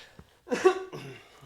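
A single harsh cough from a person with COVID bursts out, followed by a short rough throaty sound, close by against near silence.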